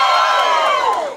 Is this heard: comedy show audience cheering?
yes